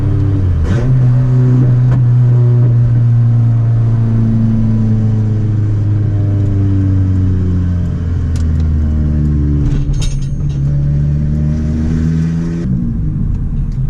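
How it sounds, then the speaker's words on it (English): Turbocharged Honda Civic with a straight-piped exhaust, its loud engine droning and rising through the revs as the turbo spools, with steady harmonic tones shifting up and down for about fourteen seconds, close and continuous with no talk. "Turbo spool right there."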